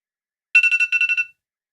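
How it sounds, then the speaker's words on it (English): A phone alarm rings in a studio with a quick run of bright electronic beeps, two bursts of about four tones each, loud and close against silence. "Oh, there's my alarm, look."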